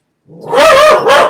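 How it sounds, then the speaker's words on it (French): A pet dog indoors lets out a single loud, close, drawn-out bark or whining yelp, with a second short burst at the end. "C'est mon chien."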